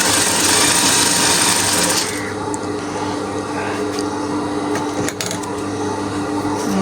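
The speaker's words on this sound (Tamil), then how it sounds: "அதனால நானே எனக்கு தைக்கிறேன்" A sewing machine stitching a homemade birthday dress, a loud, close, fast mechanical whir for about two seconds, then a quieter rhythmic running hum with occasional clicks and knocks from handling the fabric.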